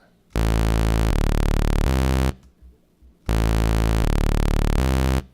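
A Reese bass patch built from detuned sawtooth waves in Xfer Serum, with remap mode at its default linear setting, sounds as two long, loud, buzzy sustained notes, each stepping through pitches, separated by a short gap.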